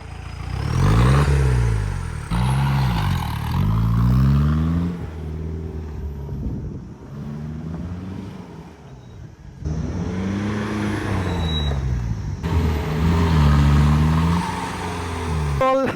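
A Mahindra Bolero off-roader's engine revs repeatedly in loud, close bursts, each rise and fall of pitch separated by brief settling to a rough idle.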